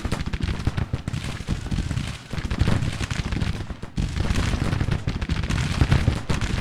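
Civil War battle gunfire in Grand Tactician: The Civil War at the 1864 Battle of Olustee, Florida, with dense rolling musketry and booming volleys that carry on continuously and loud throughout.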